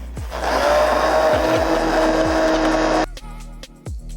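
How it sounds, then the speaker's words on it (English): Hand blender whirring through hot raspberries for about three seconds, a loud steady buzzing motor, followed by a few clunks and taps after it stops. "after you can use a mixer and hand blend that together"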